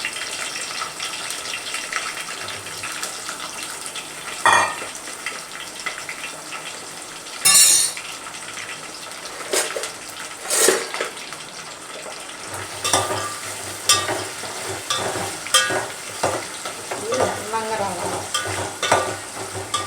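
Pieces of fish frying in hot oil for an Indian home-cooked dish, a steady close sizzle throughout with occasional louder crackles, spatters and stirring or scraping noises, no talk.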